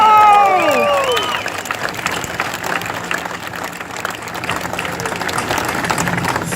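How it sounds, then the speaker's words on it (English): Crowd applause and cheering at the Taste of the Danforth festival's 25th anniversary opening ceremony, with a few whistles up front, then a steady wash of clapping that holds through to the end. "Now, yeah, we can applaud for that."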